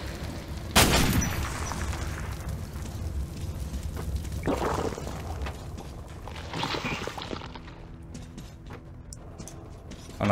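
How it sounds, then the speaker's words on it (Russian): A sharp gunshot at a door cracks near the start, followed by a booming rumble and scattered impacts and clatter in a noisy Metro 2033 Redux bunker scene. "эта дверь должна развалиться от выстрела"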